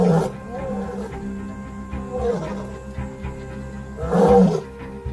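A lioness leading a pride roars at night to regroup the lions, a series of deep, loud grunting roars that rise and fall, with the strongest bursts at the start, middle and end.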